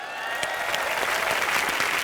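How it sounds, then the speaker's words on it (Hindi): Studio audience applause on a live Hindi TV comedy show. A loud, full burst of clapping swells in quickly and holds steady throughout. "अकबर, अनारकली और सलीम के लिए जोरदार तालियां हो जाए"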